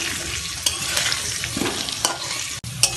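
Potatoes frying partway in hot oil in a home kitchen, giving a steady dense sizzle with occasional stirring clinks and scrapes, close and fairly loud, no voices.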